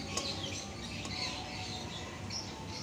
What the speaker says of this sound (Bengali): বারান্দায় রান্না করছি, পাখির কিচিরমিচির ডাকের শব্দ।